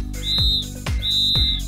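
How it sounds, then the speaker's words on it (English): Pealess plastic safety whistle blown for kayak signalling, two short piercing shrill blasts of steady pitch, close and loud, each lasting under half a second with a brief gap between. "The first choice is a peeless whistle."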